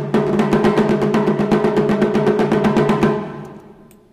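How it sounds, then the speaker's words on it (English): A taiko drum plays a triplet rhythm in a fast, loud, repeating pattern of strikes for about three seconds, then the last hit rings out and fades, alone. "And here I'm playing a triplet."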